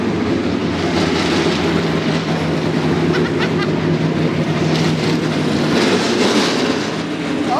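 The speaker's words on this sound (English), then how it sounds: "let's hear this NASCAR" A NASCAR race car's engine runs at a loud, steady idle, a deep continuous rumble with a rough, lumpy pulse held close for the whole stretch, with no voices over it.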